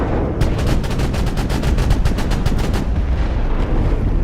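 Rapid weapon fire from a battle mech in MechWarrior Online, a loud sustained burst of evenly spaced shots over dense rumbling battle noise, with no talking.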